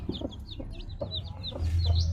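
A hen on a poultry farm with freshly hatched chicks clucks in a few short, close calls, with soft background noise and a low rumble toward the end.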